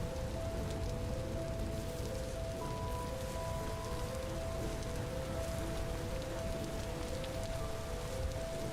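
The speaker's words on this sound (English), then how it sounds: "It's still raining." Steady rain falling in the game Vintage Story, a continuous even hiss of drops on surfaces with no talk, holding at a constant level throughout.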